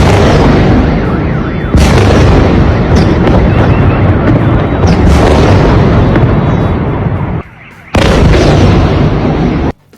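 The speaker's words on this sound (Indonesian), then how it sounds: "Suara dentuman ketika sang kameramen terlalu dekat dengan titik hantaman dari Iskander M." Loud, heavy booming blasts from an Iskander-M missile strike in Kyiv, recorded very close to the impact point, roll through back to back, a violent sustained rumble with a brief drop before another burst.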